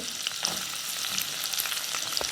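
Chopped onions frying in hot oil with dry red chillies and curry leaves, a dense continuous sizzle with small pops and crackles, close and steady throughout.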